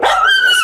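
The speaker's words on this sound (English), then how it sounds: "Just that little dog quits freaking out." A small dog barks and yelps excitedly in one loud, close, high-pitched burst inside a filthy, rat-infested house during a police visit.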